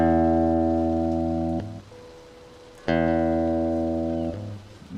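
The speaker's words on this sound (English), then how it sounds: "Like you hear that reverb?" Guitar notes ring out with a heavy reverb effect during a practice session, two sustained chords each fading into a lingering wash before cutting off, played alone with no voices.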